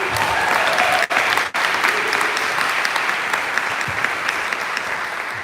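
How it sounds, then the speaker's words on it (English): Sustained applause from an audience at a book award ceremony honoring young writers, a dense, steady wash of many hands clapping that holds at an even level with two brief dips. "let's give another round of applause for Honoree"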